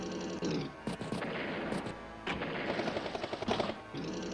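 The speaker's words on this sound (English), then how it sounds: "Battlecopter does strike a tank" A Battlecopter unit striking a tank in the turn-based strategy game Advance Wars by Web, with bursts of rapid gunfire and crunching impacts, stopping and starting over a few seconds, no voices.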